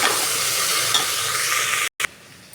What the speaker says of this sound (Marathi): आता पुन्हा एकदा आपल्याला हलवून घ्यायचे सगळ्या भाज्या